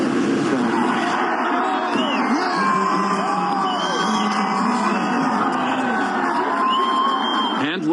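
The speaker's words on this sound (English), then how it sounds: "when he appeared in public to greet the crowd from a balcony, he received a big ovation" A large crowd cheers, whoops and yells in a long, loud, steady ovation as a president-elect greets it from a balcony. The noise fills the whole stretch without a break.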